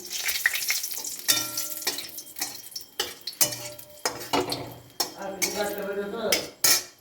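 Dried red chilli crackles and sizzles in hot oil in a pan, with repeated sharp clinks and scrapes of a metal utensil stirring against the pan, close and fairly loud.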